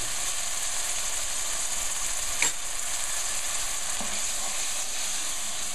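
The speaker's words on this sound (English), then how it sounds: "give the spices just a nice bit of a fry before I put anything else in here" Spices and onion puree fry in a pan for a chicken korma over medium-high heat, a constant dense sizzle with a small clink partway through and no talking.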